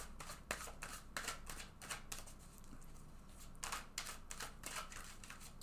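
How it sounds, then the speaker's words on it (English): A deck of tarot cards being shuffled by hand several times, giving repeated bursts of crisp riffling and flicking close to the listener, with short pauses between the bursts and no speech over them. "So let's go ahead and shuffle this deck several times."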